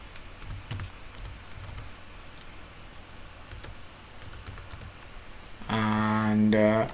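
Quick, light clicking of typing a new password on a computer keyboard, fairly soft and steady, ending in a loud tonal system sound near the end.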